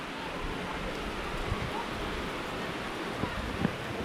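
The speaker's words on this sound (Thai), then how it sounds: "ฝนตกแห้งเลย" Rain falls steadily on a hillside village in the highlands as a soft, continuous hiss with a few faint drips and taps, heard close and unbroken.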